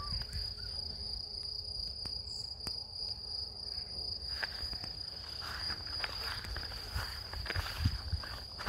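Crickets chirp steadily outdoors in open countryside, a dense continuous insect chorus with a high sustained trill, accompanied by faint rustling footsteps in the foreground.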